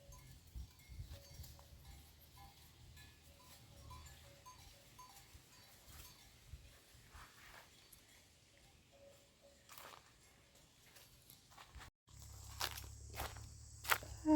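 Cattle walk along a rural farm track to graze, their footsteps shuffling steadily and cowbells clinking now and then, with insects in the background and a louder rustling burst near the end.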